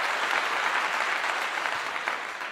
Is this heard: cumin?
no